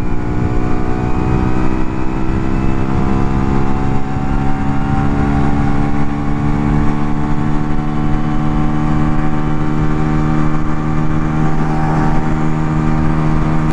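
A Yamaha Virago XV125 V2 chopper motorcycle under steady acceleration on the road, its loud, continuous engine drone thick with harmonics and rising slightly in pitch, heard close over constant wind rush.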